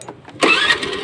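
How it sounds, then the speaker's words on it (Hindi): A Honda Aviator scooter engine, freshly repaired, catches after a brief crank and settles into a steady close-up running note, loud and alone. "सो भाई हमारी गाड़ी हो गई है स्टार्ट, आप देख सकते हैं स्टार्ट है गाड़ी"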